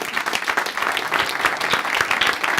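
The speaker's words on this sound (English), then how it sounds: "let's have a round of applause" An audience applauds a panel at a Digital Diagnosis event in Cambridge, MA, with a steady, fairly loud patter of many hands clapping all through, no voices over it.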